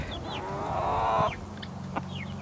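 Bantam chickens cluck nearby, with a drawn-out call followed by short chirps and clucks over a steady background hum.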